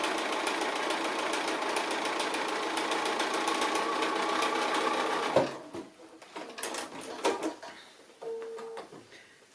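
A sewing machine whirs steadily as it stitches a curved seam on a fabric conical Christmas tree, then stops about halfway through, leaving scattered light handling clicks and rustles.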